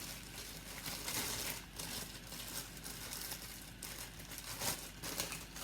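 A plastic freezer bag is cut and handled in a kitchen during tart making, giving faint, close crinkling and rustling with a few sharper snips and no talk.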